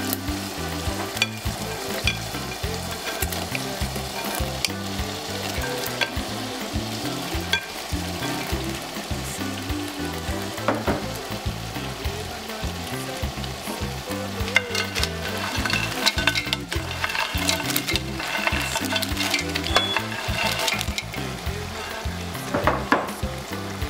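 Green beans, carrots and plantains stir-fry in a pan with a continuous close sizzle, mixed with frequent scraping and clinking from a spatula.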